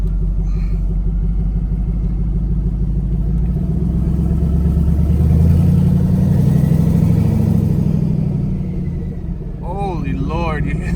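A twin-turbo LSX V8 swapped into a Ford Ranger drives on its first outing, a loud steady low engine rumble throughout with a slight rise midway, up close inside the cab.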